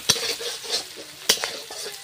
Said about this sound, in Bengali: পেঁয়াজটা হালকা ভাজা ভাজা হয়ে গেলে আদা রসুন বাটা একটু দিয়ে দিয়ে মাছটা একসাথে কষাই করবো মাংসের মতো।